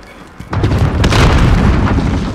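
Grenade explosion in Call of Duty Modern Warfare, a loud booming blast that bursts in after a brief quiet moment and rumbles on heavily for about two seconds.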